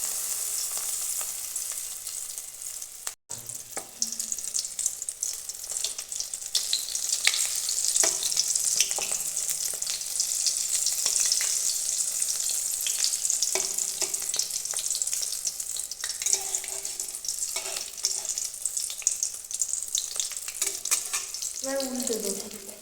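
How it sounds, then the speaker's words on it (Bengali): Egg and tomato chops frying in hot white oil in a wok sizzle steadily and loudly up close, a constant crackling hiss with occasional clinks of a utensil and brief stirring bursts. "এবার একে একে আমি বড়াগুলো ভেজে নেব।"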